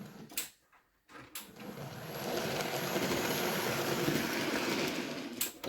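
A resin-printed model train rolls into a siding on a layout, giving a steady mechanical whir and rattle of wheels on track that runs close and continuous after a brief quiet gap.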